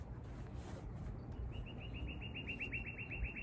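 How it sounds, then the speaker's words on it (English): Small birds chirp outdoors during a barefoot qigong session, first as scattered faint calls, then as a quick, evenly repeated series of high tweets over soft background hiss. "Listen to the birds."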